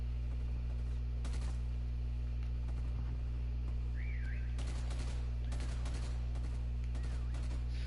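Triple-burst rifle fire in Call of Duty: Cold War, several short clusters of rapid shots over a constant low game hum, loud and close.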